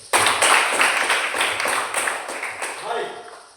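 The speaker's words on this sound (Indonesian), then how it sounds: "tepuk tangan untuk Kosing" A classroom of students clapping for a classmate during a physics lesson on thermometers, a dense burst of many hands that starts abruptly and fades over a few seconds, with voices faint underneath.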